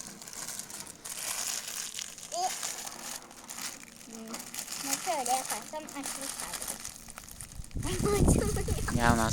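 Parcel packaging gets torn and crinkled open in several short, crackly bursts close by, while children talk and laugh throughout.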